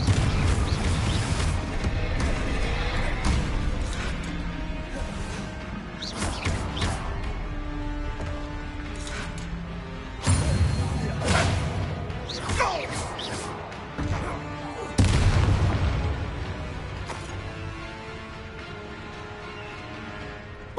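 Explosive Bombarda spell blasts in a fantasy video game, heavy booming crashes and thuds punctuating a busy battle with whooshes and impacts, the loudest bursts landing near the middle and toward the end.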